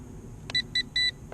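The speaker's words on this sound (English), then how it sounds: "Now it's going to make that annoying beeping sound," Handheld transmitter of a Jingdatoys JD-11 quadcopter drone beeping as its camera tilts: three short electronic beeps in an uneven rhythm, the last one longer, close and fairly loud over a low background hum.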